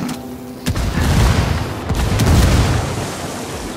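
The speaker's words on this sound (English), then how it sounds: "I had Frost come running around the corner, then the explosion following him." A frag grenade goes off in a first-person shooter game with a loud, rumbling boom and sharp cracks of gunfire around it, all close and heavy over a few seconds.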